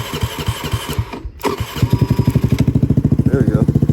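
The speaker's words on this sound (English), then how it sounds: "let's get a cold start. I get that choke on." A Honda Navi mini motorcycle starts cold with the choke on: cranking and a brief stutter, then the small engine catches and settles into a steady, close, loud idle with rapid regular pulses.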